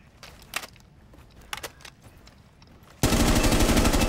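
Loud, continuous automatic gunfire from a Rainbow Six Siege match bursts in abruptly and holds steady to the end, after a stretch of scattered quieter clicks and clatter.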